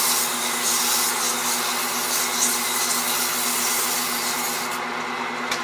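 A turned wooden box on a lathe sanded with 120 grit sandpaper, making a steady, loud whooshing rasp over the constant hum of the spinning lathe, with no pause throughout.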